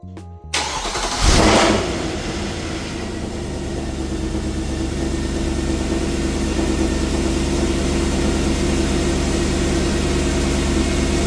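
A Mercedes E63 AMG engine cranks briefly and catches with a loud flare of revs, then drops into a steady, rumbling idle that holds close and loud for the rest of the clip, with no talking.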